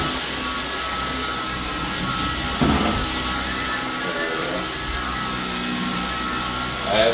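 A Dyson V11 Outsize cordless vacuum cleaner, its brush bar rotor head newly working after a known fault, runs with a steady loud whirring whine, close by and continuous, with brief muffled voices.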